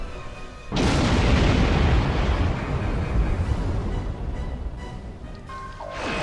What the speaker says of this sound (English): Overcharge! Fire all weapons!